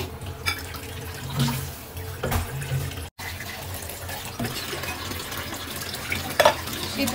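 Beef brain simmering in a pot of water on a stove, with bubbling and watery sloshing, occasional stirring or pot clatter, and a brief cut partway through.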